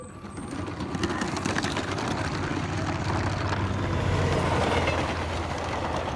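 A LEGO toy train running through a toy city layout, a continuous close whirring rattle of small motor and wheels on plastic track, steady and fairly loud with no talk.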